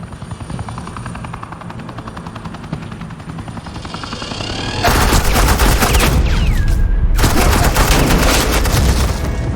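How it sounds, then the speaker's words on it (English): Suppressing gunfire in the video game Batman: The Enemy Within: after a steady helicopter rotor drone, a loud continuous burst of rapid machine-gun fire erupts and carries on, dense and close. "suppressing fire"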